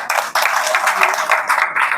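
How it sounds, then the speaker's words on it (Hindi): A crowd gives loud, dense applause for Khushboo at a political party event in Bihar. The clapping fills the whole stretch with a steady, close, roaring texture and only a brief dip near the start. "एक बार खुशबू के लिए जोरदार तालियां"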